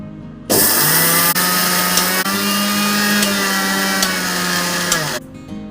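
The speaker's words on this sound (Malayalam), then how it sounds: "ഇത് നമുക്ക് കുറേശ്ശെ ഇട്ടൊന്ന് പൊടിച്ചുകൊണ്ട് വരാം." Kitchen mixer grinder running on oats and roasted ingredients: a loud, steady high-pitched whir that switches on abruptly, holds for nearly five seconds with slight changes in pitch, then cuts off.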